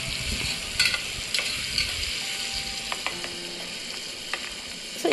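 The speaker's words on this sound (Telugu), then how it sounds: "అలాగే టమాటో పీసెస్ కూడా వేసుకొని మిక్స్ చేసుకుంటున్నాను అనమాట" Khichdi being stirred in a pan with mint, coriander and tomato pieces, a soft steady sizzle with scattered scraping and clinking spoon strokes close by, no voices.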